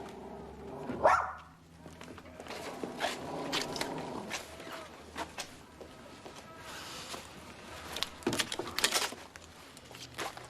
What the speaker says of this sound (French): Il y a un chien là.